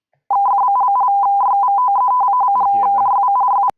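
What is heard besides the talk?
radio teletype bleeping sound effect in visualisation program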